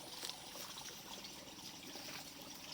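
Spring water rising from below trickles inside the Shri Gangeshwar temple at Katta, Devgad, a soft, continuous dribbling with small splashes, heard faint and close.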